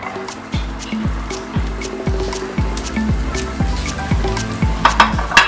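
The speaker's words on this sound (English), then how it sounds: "Now we can toss all our vegetables" Spring onions, red peppers and other chopped vegetables are tossed into a hot pan and sizzle with a steady crackle and hiss. Light stirring sounds and voices come through in the background.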